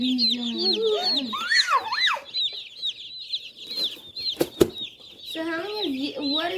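Chickens, including Americana hens, cluck and chatter in a coop with steady high-pitched calls and a few squawks, and a brief burst of wing flapping midway, all close and fairly clear.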